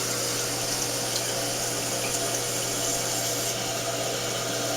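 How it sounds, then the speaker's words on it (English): Newly installed toilet in a first home flushing, a loud continuous rush of water with a steady low hum beneath, running unbroken from start to finish. "That's what happens if I flush this side."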